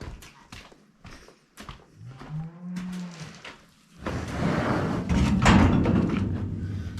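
A steer being moved into a barn on a grazing farm gives a loud, drawn-out moo, followed by thuds, hoof steps and a burst of heavy rustling movement nearby.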